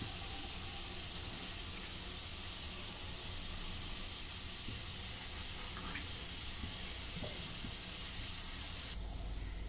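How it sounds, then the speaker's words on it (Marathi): Water poured onto a metal plate while mutton rassa cooks, a steady, close hiss and gush that runs unbroken for nearly ten seconds before cutting off at the end. "ताटामध्ये पाणी ओतून घेते."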